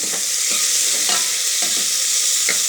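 Food frying in a hot pan until brown, a loud steady sizzle running throughout with several short scraping stirs.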